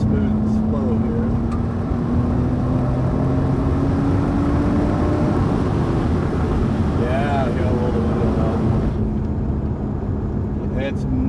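A Nissan R32 pulls smoothly from around 4,000 RPM, its engine drone steady and rising slowly under loud in-cabin road and wind noise, with someone talking over it.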